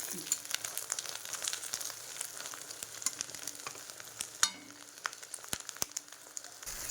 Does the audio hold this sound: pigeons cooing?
no